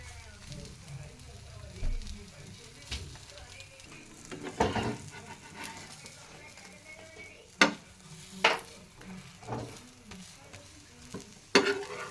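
A bread omelette sizzles steadily in a pan over a flame while being flipped, with sharp utensil scrapes and clatters punctuating the frying and a voice talking at times.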